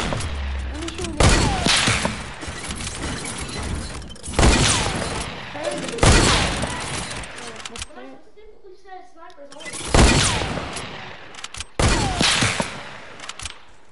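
Automatic rifle fire in Fortnite on PS4 comes in loud, repeated bursts of rapid shots separated by short pauses, with a quieter gap in the middle, as a player talks over the action.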